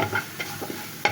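Turmeric and chilli powder with a splash of water lightly frying in a pan, a soft steady sizzle with a few scraping stirs, ending in a sharper clink.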